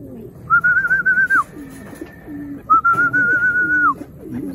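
Pigeons at a loft during a racing-pigeon race in Tagudin, Ilocos, with two bright whistling calls, each about a second long, over soft cooing and faint background noise.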